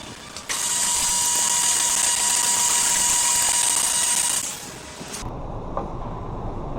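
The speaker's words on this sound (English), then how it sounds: "Let's take it over to the belt sander" A belt sander trims the edge of a board, its loud, steady whirring grind running for several seconds close by before winding down to a quieter hum.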